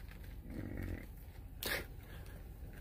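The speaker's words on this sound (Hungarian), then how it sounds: "Melyik az öreg hátul, az hörög." An old bison in Yellowstone growls with a low, rough rumble lasting about half a second, followed by a short sharp snort or wheeze, close by with no talk.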